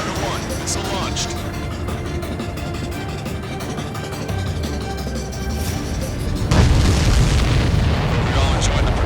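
Missile explosions in the combat flight game Ace Combat 7, a dense continuous rumble of jet noise and booming blasts that swells louder and heavier near the end, with radio voices speaking over it.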